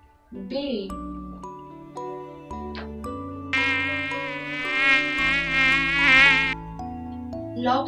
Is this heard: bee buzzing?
yes